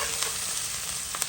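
Garlic and ginger frying in a pan while being stirred, a bright hissing sizzle throughout with a couple of faint scrapes, short and close.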